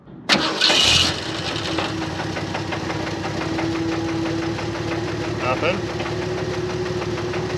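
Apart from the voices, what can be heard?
engine cranking and running on fuel straight from the pump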